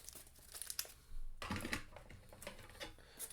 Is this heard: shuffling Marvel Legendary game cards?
yes